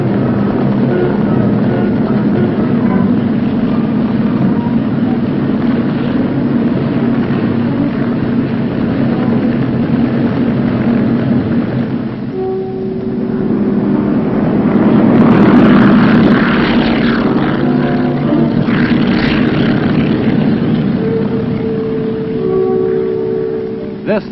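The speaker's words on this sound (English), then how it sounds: "Utilizing three centrally controlled helicopter squadrons, the men of the 3rd Battalion were airlifted to landing zone Oak" Steady droning rotor and engine noise from military helicopters airlifting troops in Vietnam, 1965, swelling louder midway as if passing closer, continuous throughout with no talking.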